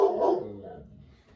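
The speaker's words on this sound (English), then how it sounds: "my dog is barking" A single dog bark close by in a home, one sharp yelp that fades quickly into quiet.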